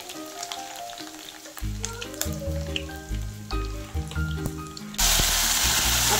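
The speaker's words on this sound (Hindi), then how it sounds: "ऑयल अच्छे से गर्म भी हो चुका है, अभी हम इसमें डालेंगे करी पत्ते और डालेंगे थोड़ा सा जीरा" Curry leaves and cumin seeds dropped into hot oil for a dal with green chilli, loud crackling and spitting at close range, with a harsher burst of sizzle near the end.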